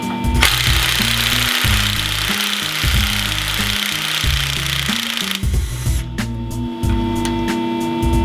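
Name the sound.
power tool removing brake line bracket from truck frame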